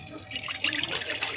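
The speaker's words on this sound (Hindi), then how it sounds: "अब इसके अंदर डालेंगे पानी" Water splashes and trickles into a pot sitting on a lit gas stove, a short close pour with bright liquid patter.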